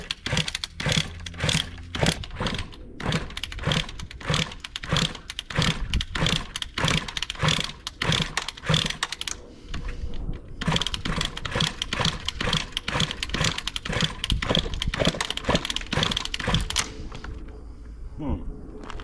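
A 2003 Kawasaki KX60 two-stroke motocross bike being kicked over and running, rapid loud popping engine pulses in a steady rhythm, with a short pause midway before it fires up again and then cuts out near the end.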